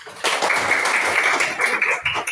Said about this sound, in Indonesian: Ya, tepuk tangan untuk kita.